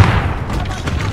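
A stun grenade goes off in a tactical shooter game, a short heavy boom with a rumbling tail, heard under lively voice chat from players.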